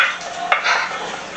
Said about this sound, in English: mix my beans in there a little bit better with my ground beef